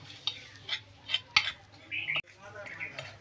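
A spoon stirring jaljira spice ingredients in a bowl, a series of scraping clinks and taps in irregular bursts, close and fairly quiet.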